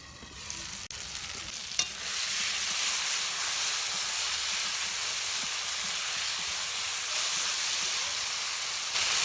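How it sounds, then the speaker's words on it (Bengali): Fried potatoes sizzle steadily in a spice paste inside a covered pan, a loud, even hiss that follows a few clatters of the pan and utensil at the start, with no talking. "আলুগুলোকে আমি মশলার উপর দিয়ে আরও কিছুক্ষণ আমি ঢাকা দিয়ে দিয়ে কষিয়ে নেব।"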